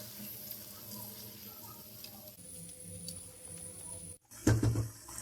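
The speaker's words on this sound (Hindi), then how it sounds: "अब हम इसमें थोड़ा सा पानी डालेंगे।" Water poured into a pan of Mughlai chicken lababdar with yogurt, a short splashing burst near the end after steady low sizzling in the pan.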